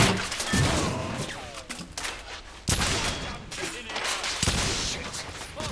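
Rapid gunfire in The Order 1886 crackles in dense, loud volleys, with sharp reports and repeated bursts filling the whole stretch and no pause between them.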